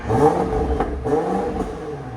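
A 900-horsepower BMW X6 M Competition with downpipes and Vibrant resonators revs hard with a loud, throaty exhaust roar as the exhaust valve opens, rising and surging twice in quick succession, close by.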